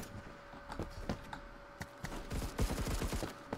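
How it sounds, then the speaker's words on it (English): Scattered gunshots echo through a Phantom Forces match, sparse single cracks at first, then a tighter rapid burst of automatic fire near the end, moderately distant and with no talking. "And I hear a lot of gunshots down here."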